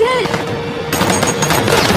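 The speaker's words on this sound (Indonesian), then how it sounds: "Hal itu membuatnya tertembak timah panas dari pistol milik polisi pengawal." Rapid gunfire from a police pistol in an action film about a hitman, several loud cracks over music and sound effects.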